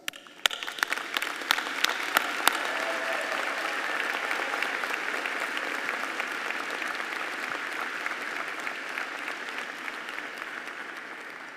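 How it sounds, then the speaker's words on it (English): Sustained audience applause at a spring diploma ceremony for College of Arts and Sciences graduates, dense and steady from a large crowd, holding level across the whole stretch with a few sharper claps early on and no talking. "they merit your applause."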